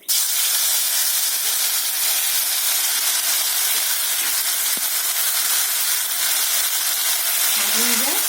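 A paste of poppy seed, mustard and green chili sizzles in hot oil with a loud, constant steamy hiss that starts abruptly and holds steady for about eight seconds, with a brief low voice near the end.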